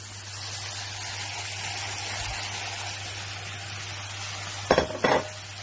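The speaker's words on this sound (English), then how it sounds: "Once that's mixed in, I'm just going to add the mince." Mince frying with spices in a pan, a steady soft sizzle throughout, ending with two quick clinks of a utensil against the pan, no voices.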